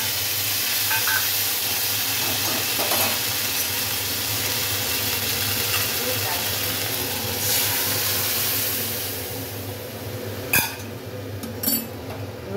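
Ginger and radhuni paste hits hot oil already holding nigella seeds, giving a steady loud sizzle and hiss with a low hum underneath and a few sharp clinks of a utensil toward the end.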